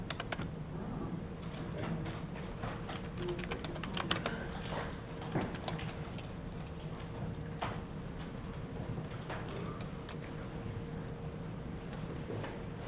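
Steady typing on a computer keyboard while working in AutoCAD, a run of light, close key clicks with a few sharper taps, fairly quiet and continuous with no talk over it.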